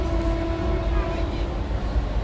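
The Vande Bharat express runs fast between Srinagar and Jammu, heard from inside as a steady, loud rumble of wheels and carriage noise with a faint tonal hum over it, and no pauses.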